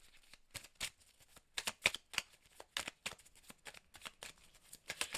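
A deck of tarot cards is cut and shuffled close by, giving a run of quick, crisp riffling bursts and slaps in an irregular rhythm, with no talking.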